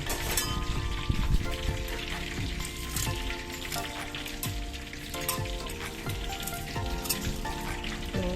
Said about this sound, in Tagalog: Habang piniprito yung iba, magsimula na tayong maghiwa.